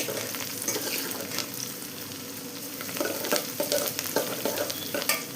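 Onions and fenugreek seeds sauté in oil for a Tamil fish curry (meen kuzhambu), a continuous close sizzle overlaid with repeated scraping and stirring strokes that grow busier toward the end, with no speech.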